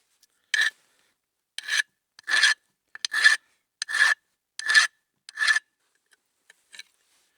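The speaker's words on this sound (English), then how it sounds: "We're going to again take a file, get rid of all the rust." A metal file rasps rust off the brake pad slots of a GMC Yukon, eight short, sharp scraping strokes in an even rhythm, close and fairly quiet, with silence between strokes.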